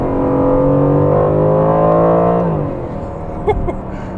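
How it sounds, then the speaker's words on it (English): An Aston Martin DB11 engine holds a loud, rising rev before falling away, then idles lower with a sharp tap near the end, heard from close by and without talking. "The engine actually definitely sounds better than it did in the AMG GTS."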